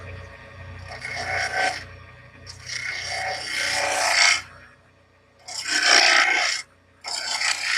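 A wood scraper shaping the bottom of a turned piece on a lathe, the workpiece cracked: bursts of rough rasping cut, pausing between passes, close and moderately loud, no talk.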